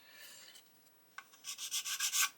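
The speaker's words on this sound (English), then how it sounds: "I'll use the cheap sanding stick as I said I would" A cheap supermarket sanding stick rubs lightly across a plastic model kit wheel bay, a few faint strokes first, then a run of louder, rhythmic scratchy passes.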